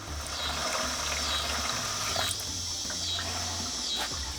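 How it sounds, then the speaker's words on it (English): Old gasoline pours out of a side-by-side's fuel tank in a continuous, splashing liquid stream, close and steady throughout with no speech. "went ahead and dumped the entire tank out"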